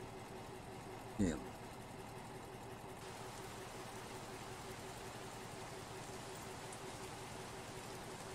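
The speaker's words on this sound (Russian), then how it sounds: "вот у нас дождик пошел" Rain falls in Euro Truck Simulator 2 while driving a Ural NEXT 2015 mod truck, a steady even hiss throughout with one short knock early on.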